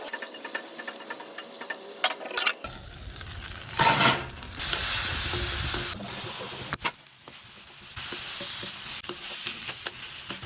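Tomato pieces frying with warm spices in a pan for an Assamese fish curry with cauliflower and peas, a steady hissing sizzle that jumps louder as the tomato goes in, with stirring scrapes and clatter running throughout.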